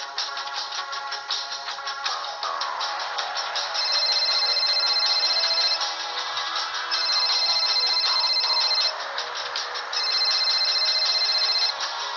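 A telephone rings with a loud, repeating electronic ringtone. Bursts of tone come in a regular pattern over a quiet room, and nobody speaks.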